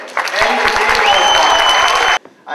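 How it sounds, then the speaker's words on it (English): A crowd at an annual sports awards breakfast applauds loudly and cheers, with the clapping holding steady for about two seconds before it cuts off abruptly and a voice briefly follows. "Another big round of applause for"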